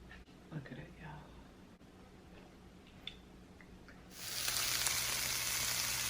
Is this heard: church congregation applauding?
no